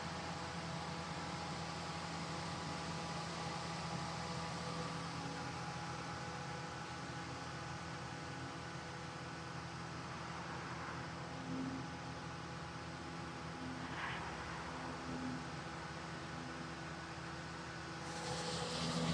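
A car engine idling with the A/C running, a steady low hum and fan-like whir that continues evenly, fairly faint, with no voices.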